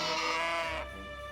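A single sheep bleats in the farming game My Time At Portia, a short wavering call heard close and clear with no other sound around it.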